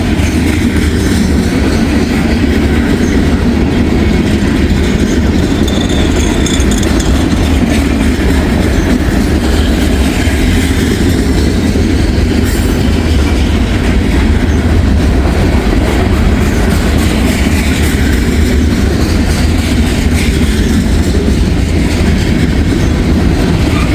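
A heavy coal train carrying coke loads rolls past at very close range, a loud, continuous rumble and rattle of railcars that holds steady throughout with no voices.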